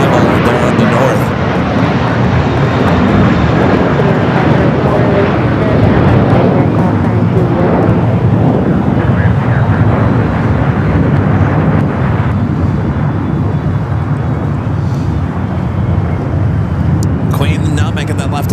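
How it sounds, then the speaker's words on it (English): Southwest Boeing 737-700 arriving at LAX from Denver, a steady broad jet roar with wind buffeting on the microphone, loud and continuous throughout, with voices talking over it. "Florida 1 still on a 737-700 coming up from Denver, flight 1879."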